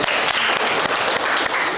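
Applause from a classroom audience after a sociology group presentation, a brief continuous patter of clapping with a few sharper claps.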